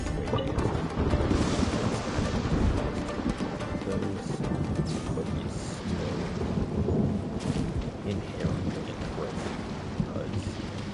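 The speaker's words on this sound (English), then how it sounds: "Yeah, this thunder is loud." A thunderstorm in Genshin Impact: dense, continuous rain and heavy rumbling thunder roll on without a break, loud and close throughout.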